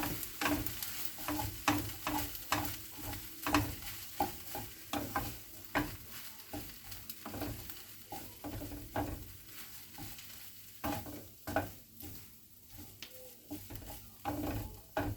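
Noodles and vegetables stir-fried in a pan, with repeated rhythmic scraping and tossing strokes over a continuous soft sizzle, close and moderately loud throughout.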